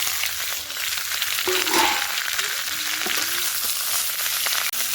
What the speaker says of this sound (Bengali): এবার ওর মধ্যে দিয়ে দেবো পুঁই শাক।